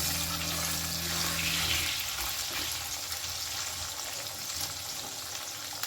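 Rinse water from a mixer jar is poured into a pan of potatoes for data posto, a steady splashing gush that is loudest early on and then settles into a softer wash of liquid and sizzle.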